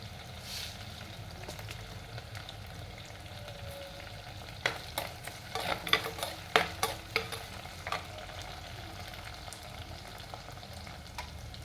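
Fenugreek seeds and cumin frying in oil for a Kerala tuna fish curry, a quiet low sizzle with a cluster of spoon scrapes and clinks in the middle, fairly close and without talk.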